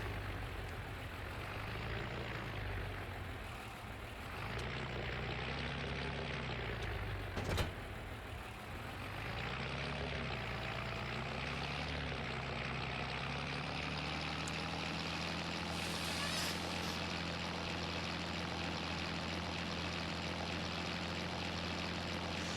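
Tractor driving with its loader bucket raised in a farming survival video game, a steady droning engine hum held throughout at moderate level, with slight shifts in pitch and no talk.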